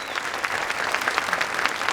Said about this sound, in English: Please give them a huge round of applause because it's a huge amount of work to do this kind of conference.